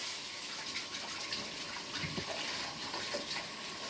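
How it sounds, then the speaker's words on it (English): Hands are rinsed under a running kitchen tap, a steady faint hiss of flowing water with soft splashing and small irregular bursts as the stream hits skin and sink. "Just give my hands a wash."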